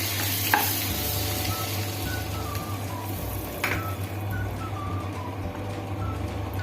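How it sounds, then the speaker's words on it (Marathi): Black cardamom and cumin seeds frying in butter in a pan, a steady soft sizzle that runs the whole time with a couple of brief clinks of a utensil, and no talking. "त्याच्यामध्ये मोठी वेलची एक आणि अर्धा चमचे जिरे। हे चांगलं परतून घ्यायचं आहे।"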